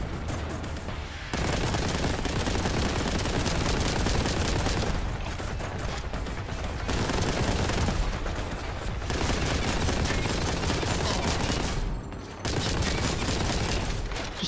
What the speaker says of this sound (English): Just taking pot shots from afar.